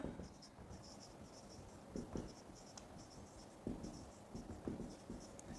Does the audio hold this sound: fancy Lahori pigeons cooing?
no